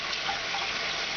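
Hot tap water runs steadily into a sink while dishes are washed, a close, even gushing hiss with no talk.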